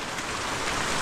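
Rain falls at sea around a fishing boat, a steady soft hiss of drops spread evenly throughout, faint and continuous with no voices.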